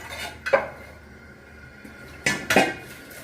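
A griddle pan being scrubbed with water clatters and scrapes in a few sharp bursts, with quieter scraping between them and no voices.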